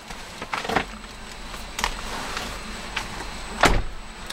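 Door handle clicks and a car door thuds shut on a 2010 Nissan Armada SE as someone climbs inside, a few close, sharp knocks and clunks spread over a few seconds.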